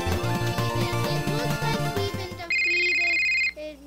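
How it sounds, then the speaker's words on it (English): A phone ringtone plays in the Roblox game Murder Mystery 2, first as a bouncy melodic tune of repeated notes, then switching to a steady electronic ring tone that cuts off abruptly near the end. "Heard a phone."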